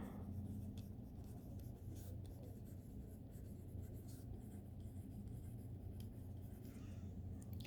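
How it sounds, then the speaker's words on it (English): Pen or pencil writing out a math solution on paper, a close, soft continuous scratching with small strokes and pauses running throughout, with faint voice in the background. "Okay, so I will write it out, as I prefer to do it that way."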